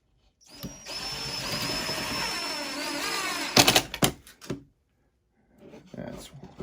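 A drill drives screws into an up-cycled wooden box being fitted as a storage drawer, with a sustained whirring run followed by a few sharp knocks and short bursts, then near silence. Faint talking may be present.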